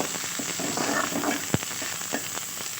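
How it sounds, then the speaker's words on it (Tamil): Curry leaves roast in a hot pan with a faint, steady crackle and sizzle, broken by a few small sharp pops. "நல்லா அதில் சலசலப்பெலாம் அடங்கி வர்ற அளவுக்கு வறுக்கணும்."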